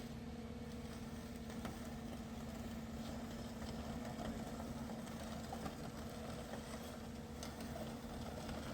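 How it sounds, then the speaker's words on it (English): Low, steady engine rumble of a tracked tap hole drill machine moving forward at a distance, with a constant hum and faint clanks, no voices. "Machine move forward."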